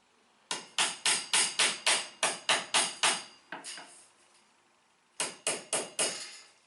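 Hammer tapping masonry tacks to fix metal corner bead onto a masonry wall: a quick run of about ten sharp, ringing blows, then a short pause and four more strikes, close and loud.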